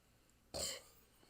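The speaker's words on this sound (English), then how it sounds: "That was a weak ass burp," A single short burp, close and fairly soft, in an otherwise quiet clip.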